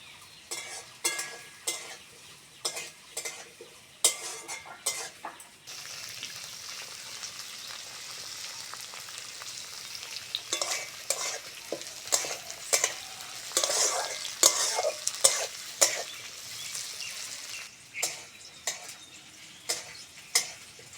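Bitter gourd fries in a pan for a fish curry. Steady sizzling runs under repeated bursts of a spatula scraping and stirring, close and moderately loud, with short pauses between the stirring strokes.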